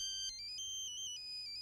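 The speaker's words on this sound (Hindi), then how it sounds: "रंभा का फोन है।" Phone ringtone of an incoming call plays alone as a faint electronic melody of bright stepped tones, repeating briefly over quiet background.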